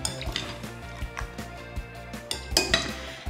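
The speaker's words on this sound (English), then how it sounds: "Now the pork goes into your marinade. Let's give that a really good mix." Pork being mixed into a marinade in a bowl, with repeated close clinks and knocks of a utensil against the dish in an irregular stirring rhythm, no talk.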